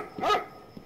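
A single dog bark in the Roblox game Floors Have Teeth: one sharp, close, loud woof with a faint second yip trailing after it.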